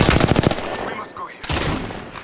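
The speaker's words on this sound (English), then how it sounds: "I'm taking fire." Automatic gunfire in the video game Apex Legends during an arenas match, a loud rapid burst of shots, a brief lull, then another heavy burst, up close.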